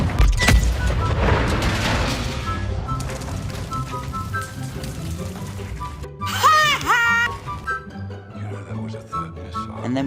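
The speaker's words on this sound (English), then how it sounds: "we blew it up" A tank blows up in Modern Warfare II: a broad, booming blast near the start, followed by layered game music and scattered whistling effects.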